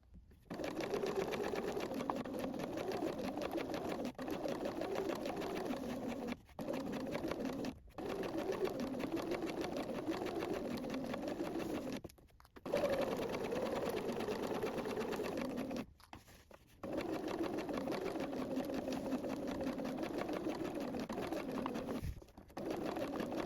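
A sewing machine stitches a seam 1 cm from the fabric edge in long steady runs, broken by a few short stops, with faint pigeon cooing in the background.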